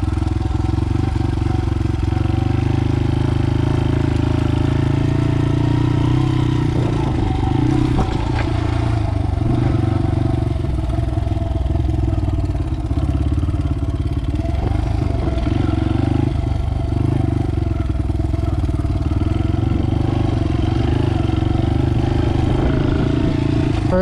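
A 2001 Honda XR80 dirt bike engine while riding through snow and mud, a constant loud close-up drone with clattering and shifts in revs across the whole stretch.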